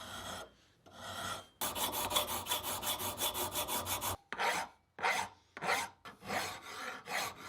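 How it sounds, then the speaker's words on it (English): Hand filing and deburring metal smooth on a home workshop bench: repeated rasping strokes, a few short ones, then a long steady run of scraping, followed by more separate strokes, close and loud with no talk. "Next, I spent a few hours deburring and filing everything smooth."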